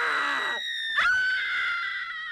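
A woman screams in a film scene, one long piercing sustained cry that shifts pitch sharply midway and holds strong to the end, loud and close with no talk.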